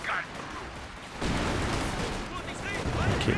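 Company of Heroes 2 battle with heavy gunfire and artillery, a burst of rapid shots and booming impacts swelling loudly after a quieter start and continuing densely, with a commentator talking over it.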